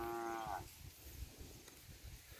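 Cattle grazing on a farm in the evening: a single short, low moo sounds close at the start, then fades into a quiet outdoor background with no voices.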